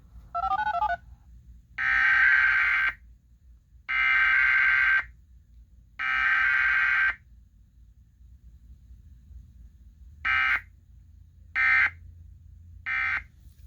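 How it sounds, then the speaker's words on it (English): A series of loud electronic Emergency Alert System weekly test tones: a short warble, three long sustained beeps, then three short beeps, separated by pauses over a quiet background. "The preceding set of tones were an automated weekly test of the emergency alert system"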